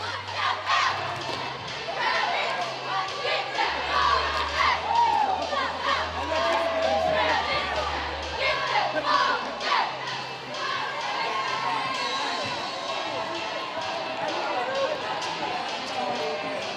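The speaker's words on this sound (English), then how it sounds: "we'll let you just listen to the student sections go back and forth" High school student sections at an Atlanta vs White Oak area volleyball playoff game chant and shout back and forth, a dense, lively crowd roar in a gym with rhythmic bursts and scattered voices throughout.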